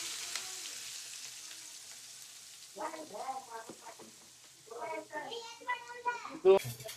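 Onion and cumin sizzle steadily in hot oil as a tempering for paneer momos in a home kitchen, a soft continuous frying hiss that carries on beneath voices, including a child's, talking over it.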